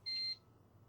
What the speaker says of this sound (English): The beep quickly pulls me back before my thoughts travel any further